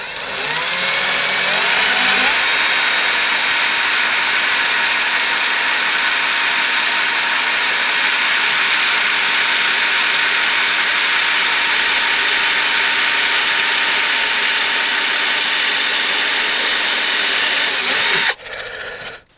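A power drill drives screws into a bench seat panel, one long, loud, steady whir that holds for most of the run before cutting off abruptly near the end, with no talking.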